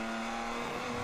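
An endurance race car at full throttle out of a corner, its engine a steady, strained, droning whine heard from onboard, continuous and fairly loud with no voices.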